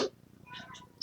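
A cat meows a few short times, fairly soft and close indoors, with quiet pauses between the calls.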